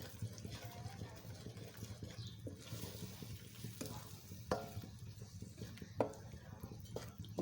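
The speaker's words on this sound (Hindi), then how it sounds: "देखिए ये हमारा चम्मच हिलाते हिलाते ही पक्के हैं।" Spoon stirring eggs cooking in a pan, soft sizzling with intermittent scraping and clinks of the spoon against the pan, fairly quiet, with a voice talking over it.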